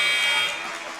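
End-of-quarter buzzer at a college basketball game, Haverford versus the Friars in the 2019-20 season: a loud, sustained electronic tone that holds steady, then eases slightly in volume toward the end.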